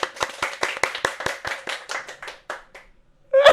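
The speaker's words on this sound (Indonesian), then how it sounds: "Tepuk tangan, tepuk tangan." Hands clap about a dozen times in a quick, steady rhythm, close and crisp, then slow and trail off, with a brief louder burst at the very end.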